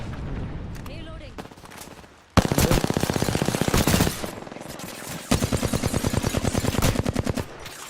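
Automatic gunfire in Apex Legends, a quiet stretch giving way to two loud, rapid bursts of shots close by.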